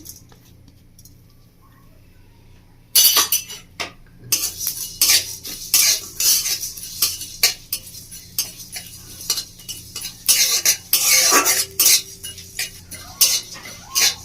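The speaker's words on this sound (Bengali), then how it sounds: "এটা আমি প্রথম শুকনো কড়ায় ভেজে নেবো মশলাটাকে" After a quiet start, a spatula scrapes and clatters repeatedly in a dry pan, tossing whole spices in irregular bursts.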